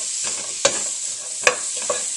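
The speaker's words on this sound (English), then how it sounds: "you want to cook this till the onions start to get a little bit golden" Onions coated in turmeric fry in oil with a steady close sizzle, broken by a few sharp scrapes of a spoon stirring the pan.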